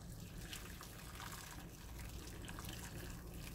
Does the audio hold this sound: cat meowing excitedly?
no